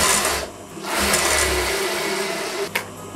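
Sewing machine stitching a blouse lining, a fast steady whirring hum in two short runs with a brief pause between, close and alone.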